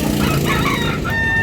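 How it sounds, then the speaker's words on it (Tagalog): Roosters and chickens at a market in Carbon, Cebu crow and cluck loudly and close by against a busy background. "Gandang manok."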